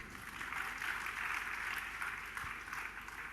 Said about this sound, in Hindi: जिनको समझ में आया वो अपने लिए ताली बजा लो